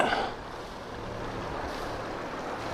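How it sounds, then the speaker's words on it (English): Steady wind and sea noise aboard a sailboat at sea, with a low continuous rumble from the running engine and water maker beneath a broad, even wash of wind and waves, no talking. "Water maker's still running. Engine's still running."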